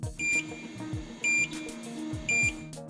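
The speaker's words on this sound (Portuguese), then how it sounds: "Um bip sonoro é acionado por 3 vezes" Three short electronic beeps ring out at a steady interval, each a clear high tone over a low background hum.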